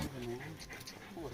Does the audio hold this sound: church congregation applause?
no